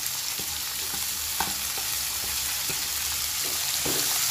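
Chayote squash goes into a hot frying pan and sizzles continuously, with a few sharp clinks and stirring taps over the frying.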